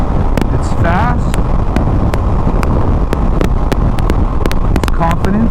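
Steady, loud wind rush buffets the microphone while riding a 2024 Aprilia RS660 Tribute sport motorcycle in a gusty crosswind, a continuous broadband roar under the rider's intermittent talk.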